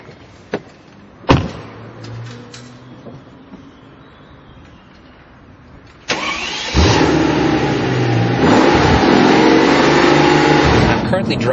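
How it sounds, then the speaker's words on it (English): Mercedes SLS AMG idling quietly at first, with a few clicks and a brief knock, then its engine fires up loud and close and revs up into a sustained, rising roar. "we're going to take this baby out for a spin on the German Autobahn and see what it can do"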